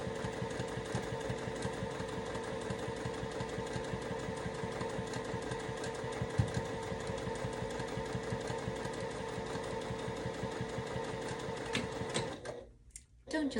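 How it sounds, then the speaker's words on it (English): A Juki sewing machine stitches a seam on a quilted t-shirt in a steady, rapid mechanical rattle that runs close and loud for most of the stretch, then stops abruptly near the end. "Don't you love the sound of a juki?"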